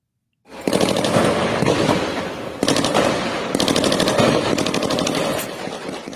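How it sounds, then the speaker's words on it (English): Sustained automatic gunfire in a gunfight, rapid loud bursts that start abruptly and continue nearly nonstop for over five seconds, briefly restarting midway. "Take a look at video from one of their gunfights."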